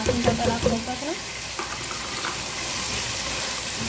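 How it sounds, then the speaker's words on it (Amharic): Garlic and tomato sauté in hot oil in a pan for a home-cooked chicken-and-rice dish, a steady close sizzle with brief stirring and clinks near the start. "እንደዚህ እናደርግና እናቁላለዋለን ማለት ነው።"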